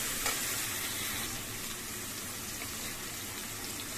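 Water poured into a hot pan where duck is cooking, producing a loud continuous sizzling hiss that stays even and close from start to finish.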